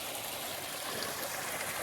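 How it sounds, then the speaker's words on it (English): Small woodland waterfall and stream flowing steadily, a continuous broadband rush of water close by with no other sounds. "this little waterfall and stream head further up the ridge where we're going"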